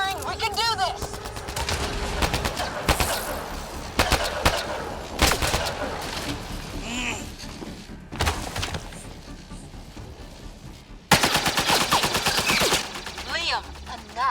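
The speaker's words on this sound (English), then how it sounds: "Just keep firing, we can do this!" Rapid gunfire in Mass Effect: Andromeda, loud close bursts and sustained automatic volleys with sharp cracks, broken by brief pauses, mixed with combat voices shouting.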